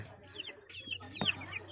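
A two-week-old Blue Splash Brahma chick clucking and peeping close by, several short chirpy calls with a brief sharp knock partway through, over a low steady hum.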